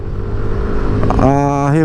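A 2025 Yamaha NMAX scooter pulls away under throttle, its engine note rising steadily in pitch as it accelerates, loud and close over road and wind noise.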